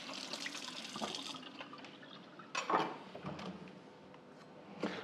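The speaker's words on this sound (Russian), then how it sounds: "Ножичек ополоснем." A kitchen knife is rinsed under water in a home kitchen, with a soft, fairly quiet run of tap water, a brief louder splash midway and a few faint clinks.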